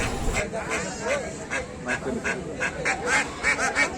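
Geese, including Chinese geese, at a livestock market in Nachol, Chapainawabganj, honk in a steady run of short, nasal calls, close and fairly loud, over a background of market chatter.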